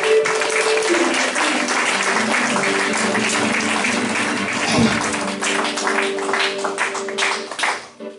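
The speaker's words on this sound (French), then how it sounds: "Applaudissez-moi Jéhovah" A church congregation claps during a youth prayer service, sustained dense applause mixed with rhythmic hand-clapping and background tones, fading near the end.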